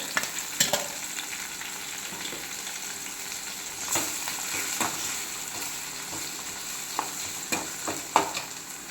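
Steady sizzling of ground tomato paste frying in a pan, with occasional sharp clinks and scrapes of stirring, close and constant without any talking.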